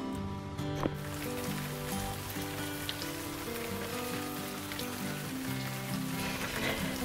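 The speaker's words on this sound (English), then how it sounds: "I just woke up to the sound of rain on my van." Steady patter of rain drumming on a metal roof overhead, constant and enveloping, with no talking.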